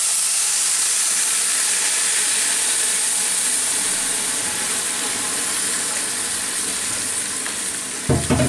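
Hot sugar syrup pours into fried vermicelli for semai kimami, a loud, dense, continuous sizzle and hiss from the pan, with a clatter at the very end and no one speaking.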